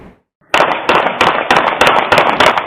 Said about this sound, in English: Surveillance cameras capturing the sound of 7 gunshots after a Miami-Dade police officer opened fire at a suspect